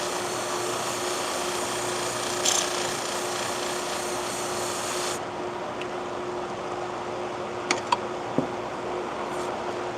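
Pet grooming shears being sharpened in a small Texas sharpening shop, a steady abrasive rasp running continuously with a constant hum beneath, changing tone partway through, punctuated by a few brief sharp ticks and clicks.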